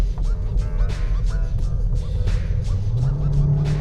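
A small petrol engine in a Kia Niro GDi hybrid hums steadily, its pitch rising near the end as it accelerates, heard from inside the car.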